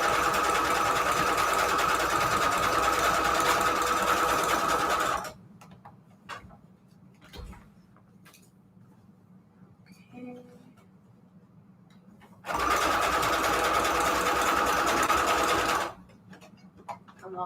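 A sewing machine stitching junk journal pages runs loud and steady for about five seconds, stops, then runs again for a few more seconds, with faint handling clicks in the quiet gap.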